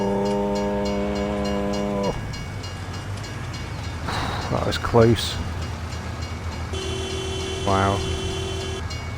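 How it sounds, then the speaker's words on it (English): A train rushes past close by in Farming Simulator 19, a loud rumbling roar with horn blasts that cut off and return, while a man exclaims in surprise over it. "You almost got taken out by a train."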